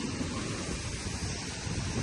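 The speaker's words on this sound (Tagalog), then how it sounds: "Yan, ganito yung... lalaki ng alon. Guys, sila mo yung sitwasyon ng alon." Strong wind and heavy surf on a coastline as a typhoon approaches, a constant roaring rush of waves and gusting air buffeting the microphone with no let-up.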